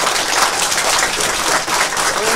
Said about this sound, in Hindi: इसके लिए ज़ोरदार तालियां करो।